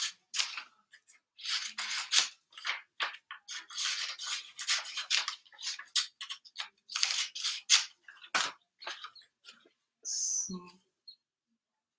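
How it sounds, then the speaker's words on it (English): Scissors snip repeatedly through paper trimmed for an adult collage project, a run of close, crisp cuts in quick irregular bursts with brief pauses, ending in a short rustle. "I'm getting to sort of a little part here where, gonna have to do a little trimming."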